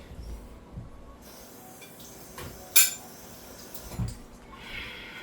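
A plate and spoon are picked up while serving pepper steak and cheesy broccoli rice, with soft kitchen handling noise and one sharp, bright clink of spoon on dish, followed by a duller knock.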